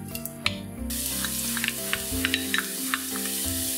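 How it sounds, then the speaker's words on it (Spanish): Onion fries in three or four spoonfuls of oil in a deep pan for a meat lasagna. A hissing sizzle starts abruptly after a brief quieter moment, with small crackles and pops over faint tonal music underneath. "A mí me gusta empezar a freír lo primero la cebolla"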